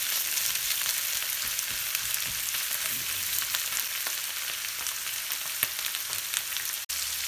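Longaniza sausage fries in its own rendered oil in a pan, a steady close sizzle with scattered pops and crackles, ending with a sharp clack near the end.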